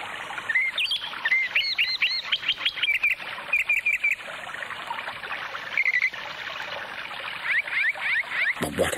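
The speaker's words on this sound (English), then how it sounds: "Soon the bird began to sing and whistle so beautifully that Abu Talha lost track" A songbird chirps and whistles in short, quick bursts of clear notes, repeated in clusters over a soft, continuous trickle of water.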